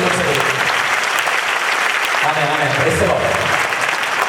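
An audience at a Christian prayer talk claps hands in praise of God, producing loud, continuous, close applause that fills the room evenly from start to finish.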